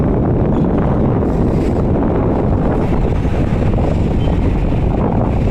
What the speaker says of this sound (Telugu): గాలి విపరీతంగా కొడుతుంది గాలి